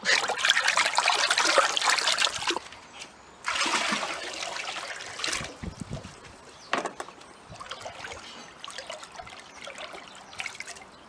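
Water sloshing and splashing in bursts as a hand swirls through it in a tub, with a quieter stretch of trickling and small drips in between.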